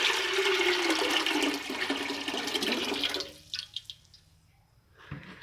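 Water, around 2.5 to 3 litres, pouring into a pressure cooker of washed lentils on a stove, a loud sustained gushing pour that stops abruptly, followed by a few splashes and drips.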